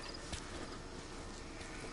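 Horse hooves clip-clopping in a game, a soft rhythmic trot under a dense, noisy background ambience, faint and brief.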